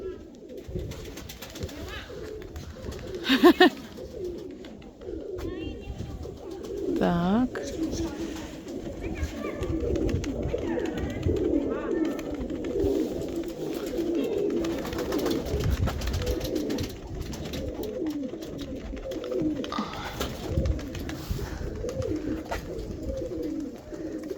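Pigeons coo softly and repeatedly close by, with wing flutters and people talking over the birds throughout, as a pigeon fancier flies his birds in the wind.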